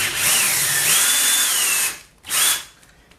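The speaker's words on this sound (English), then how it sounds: "I'm gonna back these screws right here out." A power drill backs screws out of a TV antenna mount, running in two bursts: a long whine that rises and dips in pitch, a brief pause, then a shorter second run, close and loud.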